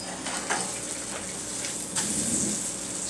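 An egg fries over easy in a pan, a steady close sizzle with a couple of brief clatters as it is flipped, no one talking.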